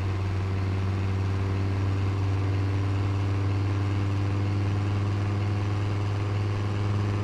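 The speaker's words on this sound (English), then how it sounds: "You can hear the exhaust a lot better." A car's engine and exhaust in the Texas Driver Simulator game hums at a constant low, even drone that runs steadily throughout, with no talk over it.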